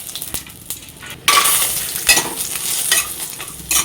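Lentil dumplings (bori) frying in a little oil in a wok, a quiet clinking start before a loud sizzle surges in, with stirring scrapes and utensil knocks over the steady hiss.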